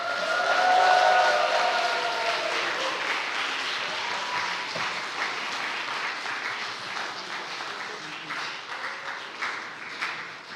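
Church congregation at a Sunday service cheering and applauding together, a loud swell of shouts at the start settling into sustained crowd clapping that continues steadily to the end.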